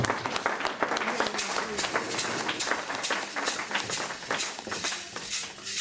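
A church youth gathering applauding at a Christian service in Chablais, Switzerland, a full, close burst of clapping from many hands that rolls on steadily without pause.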